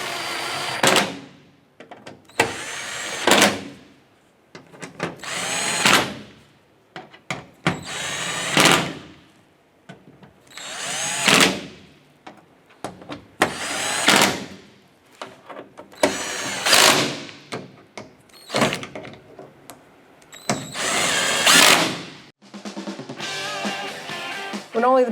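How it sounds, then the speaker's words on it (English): A power drill snugs down the screws on a tailgate handle cover of a 2011-2018 Ram truck, making repeated short whirring bursts with pauses in between, loud and close, as each screw is driven in. "let's go ahead and snug them all down."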